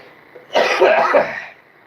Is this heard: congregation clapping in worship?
no